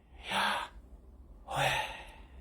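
Two slow, deliberate human breaths, each a loud airy inhale or exhale, separated by a quiet pause, close to the listener with no talking.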